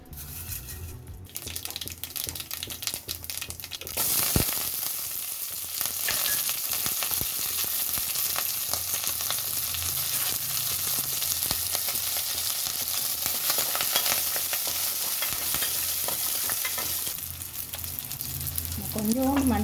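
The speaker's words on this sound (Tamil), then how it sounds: "வெந்தயம், ஜீரகம் தாளிக்கிறதுக்கு." Mustard seeds, fenugreek and cumin crackle and sizzle in hot oil, a steady busy frying hiss that continues throughout, with a brief clatter near the start.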